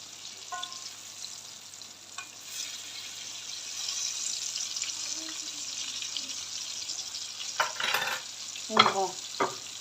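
Fish sizzles steadily in a hot pan, browned on both sides, with a few louder crackles and utensil scrapes toward the end.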